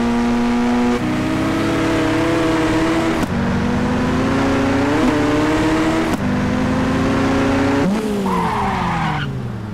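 A car engine from a remastered GTA San Andreas sound pack revs loudly and continuously, pitch climbing through several gear changes with brief dips between shifts, ending in a high rev.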